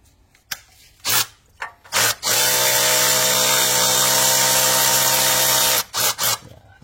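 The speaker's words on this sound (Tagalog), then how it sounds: "subukan ang luwagan ng ratchet para mapabilis." A ratchet wrench loosens a bolt on a 2006 Nissan X-Trail during catalytic converter work. Close, short mechanical bursts lead into a sustained whirring run of several seconds, then a few more brief bursts.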